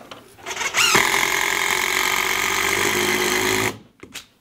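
A power screwdriver drives a long self-tapping screw into a 3-metre wooden batten during mansard roof insulation with stone wool, a steady loud whir lasting about three seconds, then stopping, with a brief faint tap afterward.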